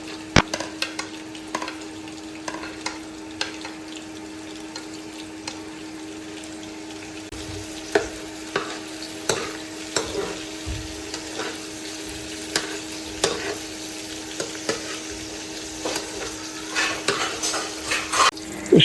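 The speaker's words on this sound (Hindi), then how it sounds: "सबसे पहले इसमें हम लहसुन डालकर इसको थोड़ा सा फ्राई करेंगे।" Garlic frying in Blue Band butter in an Indian kadhai, a steady low sizzle running throughout with frequent clinks and scrapes of a stirring spoon against the pan, growing busier in the second half.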